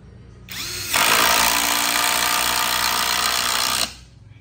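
A Makita cordless drill on a 3Ah battery drives screws in one continuous high-pitched whine lasting about three seconds, close and loud, starting with a short softer ramp-up and cutting off sharply at the end.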